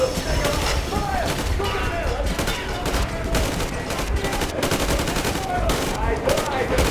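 Rapid gunfire bursts and sharp shots crackle throughout a firefight in the video game Metro Exodus, dense and continuous, with shouted voices and game sounds mixed underneath.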